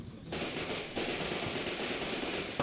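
Rapid rifle fire in Fallout New Vegas rattles out in a dense, continuous burst of loud shots, close and sustained, with no talk over it.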